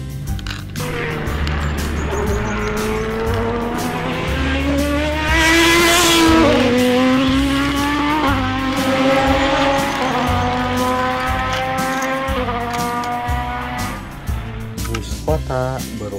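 A red supercar races past with squealing tires and a revving engine that sweeps up and down in pitch, loud and close, over a steady music track.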